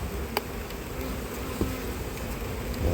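Honey bees hum steadily at an open beehive during late-season colony preparation, a continuous close buzz with a few brief louder passes of individual bees and no talking.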